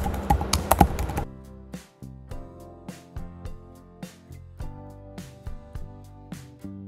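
A computer keyboard clatters as code is written for an ESP32 Firebase home automation project: a dense burst of fast typing, then slower, evenly spaced single key taps, close and clear with no talk.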